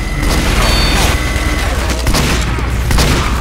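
Rapid gunfire and explosions in a Team Fortress 2 match, a dense continuous barrage that stays loud and close throughout.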